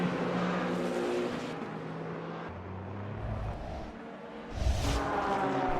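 A Toyota hypercar and GT3 race cars lapping the Algarve circuit, their engines droning and shifting pitch steadily as they pass, with a louder swell near the end and no talking.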